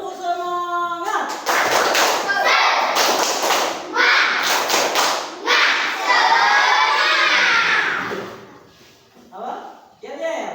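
Sixth-grade children in a classroom clap a rhythmic tepuk semangat chant, loud bursts of patterned clapping mixed with shouted voices and cheering, then fading to a quiet end.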